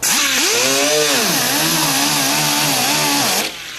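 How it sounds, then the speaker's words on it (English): A cheap Harbor Freight angle grinder whines loudly up close as it grinds out a dent in a Fiat Spider's lacquer-painted body, its pitch dipping and rising under load before cutting off. "First thing we got to do is grind it out."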